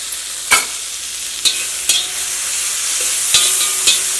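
A spoon scrapes and stirs through tomatoes in an uncovered pan, a handful of sharp clinks over a steady soft sizzle, close and with no talking.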